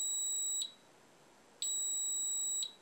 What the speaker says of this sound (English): That's the alarm that goes off when it's over 4.